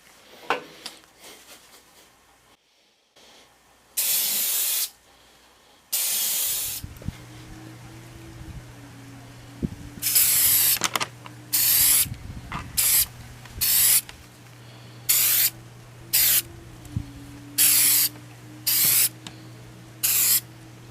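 Paint spray gun hissing in a spray booth during a restoration, in repeated short bursts of loud hiss separated by pauses, with a steady low hum running underneath.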